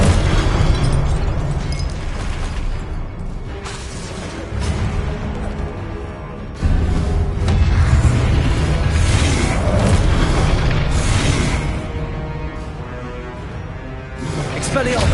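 Repeated Confringo spell blasts in the video game Hogwarts Legacy, booming bursts in a dense, continuous battle mix with spell-casting voices over the top.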